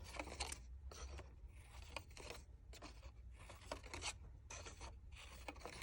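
Scissors snipping between red paper flower petals, a quick series of rasping cuts in short rhythmic clusters, close but quiet.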